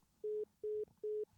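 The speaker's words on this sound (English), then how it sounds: "It sounded like I heard 3 beeps." Three evenly spaced electronic beeps sound as a phone call drops, each a steady tone lasting about a fifth of a second, clear and alone over a faint background.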